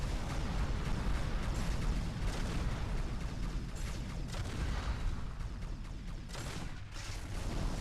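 Explosions from the mech combat game MechAssault on the original Xbox rumble in a continuous heavy barrage, deep booms and bursts overlapping with no pauses and no talking.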